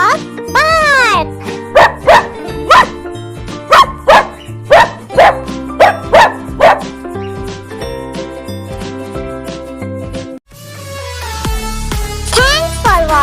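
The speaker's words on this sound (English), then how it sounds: "Dog, bark." A dog barks in a steady series of about ten evenly spaced, loud barks over a bright tuned jingly music backing in a children's animal sounds lesson, with a voice near the end.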